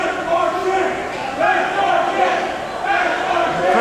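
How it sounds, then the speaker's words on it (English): A wrestling show crowd chants in a large arena, rising and falling in loud rhythmic waves that fill the whole clip. "The crowd chanting, that's our champ."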